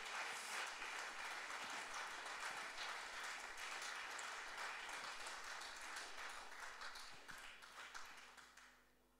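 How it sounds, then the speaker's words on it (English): Church congregation at a baptism service clapping together in a sustained, fairly faint round of applause that holds steady, then thins and tapers off at the end. "let's give Mustafa a round of applause"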